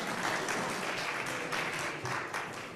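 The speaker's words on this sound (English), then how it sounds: "Yes, you can give yourself applause." A Unitarian Universalist Sunday morning worship congregation gives a short, moderately quiet round of applause, an even patter of many hands heard from a distance.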